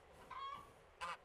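A goose on a farm in the game Farmer's Life gives two short nasal honks, close and fairly faint, separated by a brief pause.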